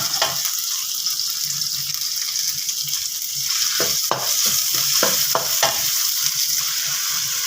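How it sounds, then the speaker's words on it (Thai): Red curry paste and shrimp paste stir-fry in hot oil for a spicy catfish dish, a loud, continuous close sizzle joined partway through by a series of sharp spatula knocks and scrapes against the pan. "น้ำพริกผัดเผ็ดนั่นเอง พร้อมก็กะปิพี่น้อง ผัดให้หอมเลยพี่น้อง"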